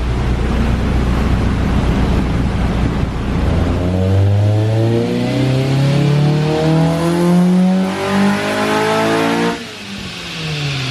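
A Honda Civic Si engine revs hard and close, loud and sustained, its pitch climbing steeply through the gears before the revs drop sharply near the end.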